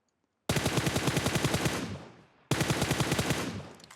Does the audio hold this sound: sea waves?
no